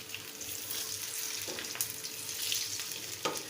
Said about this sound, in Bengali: সবগুলো চপ এভাবে বেজে নেব